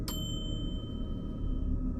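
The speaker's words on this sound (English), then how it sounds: "door chime goes off." A single electronic door chime rings in an empty store late at night, one bright ding that decays into a steady hum of background noise.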